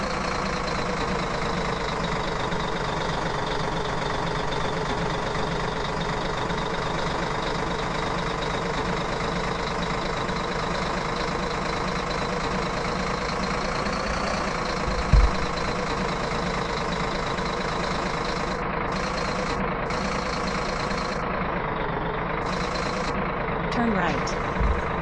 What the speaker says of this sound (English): Drive the dump truck to the dump yard and empty the truck.